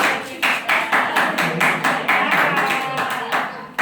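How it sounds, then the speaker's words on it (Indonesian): Classroom applause for a female teacher during a Class XI school election simulation, a steady burst of many hands clapping in rough rhythm, fairly close and continuous for several seconds. "Mari kita berikan aplaus untuk Ibu"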